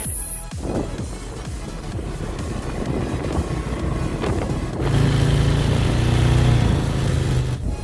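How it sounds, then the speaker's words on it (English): A quad bike rides along sandy roads in Mozambique, its engine droning steadily and close throughout, growing louder and rougher partway through as it works harder. "we'll be taking the quad bike and going back"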